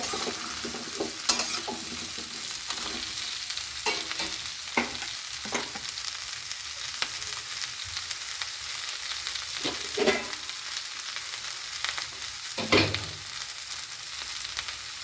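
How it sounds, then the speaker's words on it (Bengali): Vegetables for Bengali shukto stir-fried slowly on a low flame, with a soft, steady sizzle and repeated scrapes and knocks of a spatula stirring in the pan. The sounds are close, and no one speaks. "এবারে ভালো করে নেড়ে নেড়ে ভাজতে থাকবো। লো ফ্লেমে এটা ভাজা হবে আস্তে আস্তে।"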